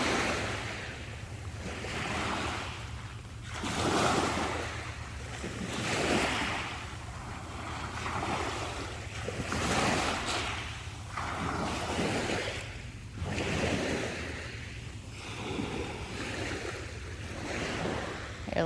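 Ocean waves roll onto a beach in repeated surges every few seconds, each swell building and receding, with gusty wind buffeting the microphone throughout.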